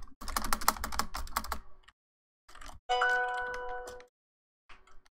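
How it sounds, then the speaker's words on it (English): A mobile phone notification chimes for about a second as a steady, ringing tone, set between bursts of brisk computer keyboard clicking, with no talking. "that's my phone going off"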